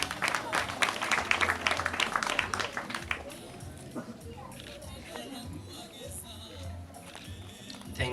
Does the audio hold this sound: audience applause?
yes